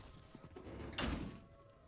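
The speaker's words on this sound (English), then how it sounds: "Drop on down with nubbins? And close the door." A door closes in a video game, heard as a single muffled thud midway through, fairly soft against a low background hum.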